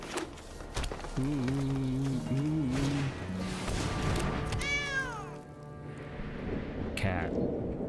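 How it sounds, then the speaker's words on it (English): A cat meows loudly and close by in a few drawn-out, wavering calls, followed by a sharp rising squeal, over steady background noise, with no talking over it. "Cat."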